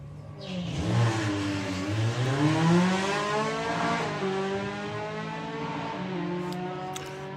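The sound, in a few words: VW Corrado drag racing car accelerating at Santa Pod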